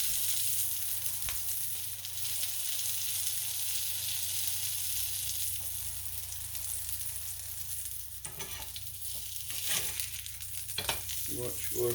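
Soy burger patty sizzling on a hot griddle, a steady loud hiss of frying that keeps going through the whole stretch, with brief scraping sounds toward the end as it is pressed down.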